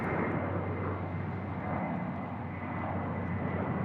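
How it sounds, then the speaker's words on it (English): Qantas Airbus A330 departing runway 16 Right at Sydney Airport, a steady broad jet roar with a low engine drone holding constant and loud throughout. "So we've got Qantas 649 here. It's A330 departing, runway 16 right."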